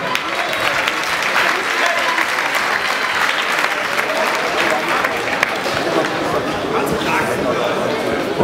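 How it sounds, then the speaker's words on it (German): A crowd claps steadily at a German table tennis championship match, continuous applause lasting several seconds with murmuring chatter mixed in. "Kurz darauf noch ein Applaus für den."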